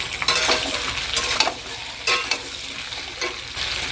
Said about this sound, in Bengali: এখন আমি এর মধ্যে সব রকম মশলা মিশিয়ে নেব।